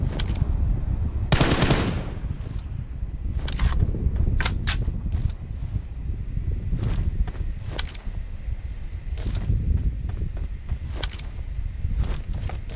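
Bursts of automatic and single gunfire from the PUBG Mobile battle royale game, sharp cracks scattered irregularly over about thirteen seconds, some close and loud, others more distant, with background game ambience and no talk.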